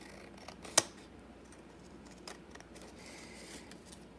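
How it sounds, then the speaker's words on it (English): A single crisp snip of scissors through paper, followed by a few faint rustles in a quiet room. "I'm just gonna use my scissors to chop the rest of that off"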